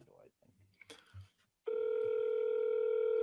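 After a few seconds of talking, a loud, steady telephone dial tone starts and holds continuously, heard while placing a call on a phone.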